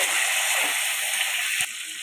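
Chopped medium tomatoes dropped into spices frying in a pan: steady, loud hissing sizzle, then a brief thump and a quieter sizzle as the tomatoes go in.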